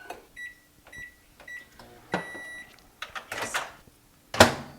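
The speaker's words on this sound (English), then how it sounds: "I'm gonna pop it in the microwave just for 10 seconds at a time" A microwave oven heating butter in short bursts: repeated electronic beeps, a door clunking open and shut, and a hum of the oven running, all close and moderately quiet.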